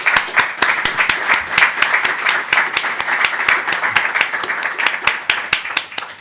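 An audience at a talk with the founder of a historical memory association claps steadily, giving separate sharp claps at a brisk, fairly even rhythm close by.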